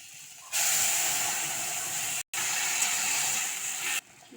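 A loud, steady hiss and sizzle erupts as hot water hits a frying pan of fried fish and chillies, briefly breaking off once, then continuing before stopping abruptly.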